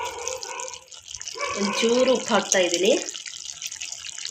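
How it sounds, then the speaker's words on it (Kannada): Water poured from above into a pot of simmering mutton kaima gravy: a short, close splashing pour lasting about a second, under a person speaking. "ಸ್ವಲ್ಪ ಮೇಲಿಂದ ನೀರು ಹಾಕ್ತಾ ಇದ್ದೀನಿ"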